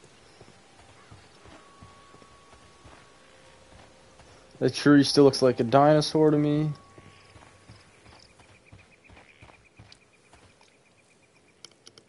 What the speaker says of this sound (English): You can hear a horse outside.